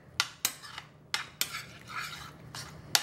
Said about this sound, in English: now we're just going to stir this together right in the pan